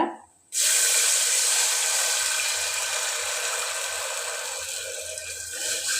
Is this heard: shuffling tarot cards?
no